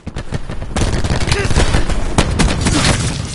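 A nine-bang stun grenade detonating in Call of Duty 4, a rapid string of loud sharp cracks and bangs layered over gunfire and game noise, with a voice heard briefly.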